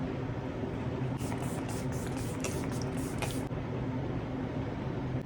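Makeup setting spray mists out in a run of quick, hissing pumps over about two seconds, faint against a steady background hiss with no talking.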